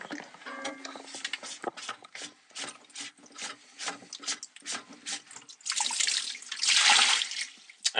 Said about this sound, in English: I could just dump them in the sink.